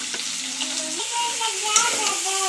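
Cauliflower florets frying in a pan with oil for a potato, pea and soybean vegetable dish, giving a steady sizzle with stirring scrapes and a faint voice in the background.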